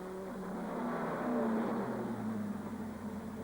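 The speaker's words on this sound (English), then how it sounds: "So the Frenchman in the Belmondo Viper really on a charge as Hart closes the door" GT race cars in a 2000 FIA GT race, including a Viper, passing with a steady engine drone that swells briefly and then recedes, fairly faint and distant.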